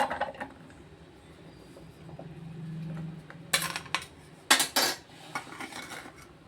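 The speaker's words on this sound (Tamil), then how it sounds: "நம்ம இதில் வந்து வெங்காயத்தை நல்லா வெட்டிக்கிறோம்" A knife chops an onion into fine pieces on a board, making a few crisp, separate cuts clustered near the end over a quiet background hum, with no voices.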